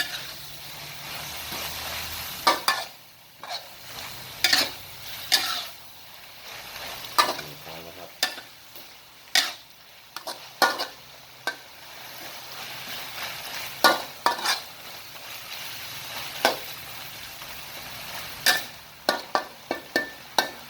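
Bamboo shoots stir-fried with chicken, red curry paste and torn kaffir lime leaves, a continuous sizzle broken by frequent sharp scrapes and clacks of a utensil tossing the food in the pan.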